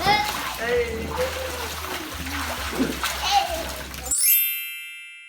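Water splashes and sloshes continuously as people play in water, with children's voices and chatter running over the splashing before it cuts off abruptly near the end.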